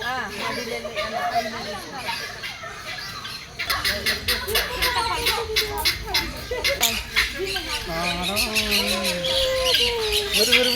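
Squawking birds chatter in bursts beneath ongoing talk, with the harsh calls growing denser and louder after the first few seconds.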